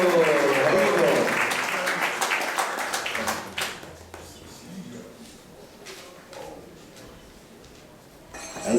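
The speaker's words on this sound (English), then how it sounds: "So let's give a round of applause for him." Congregation applause in a temple hall, a dense burst of clapping at the start that thins into scattered claps and fades under low murmuring.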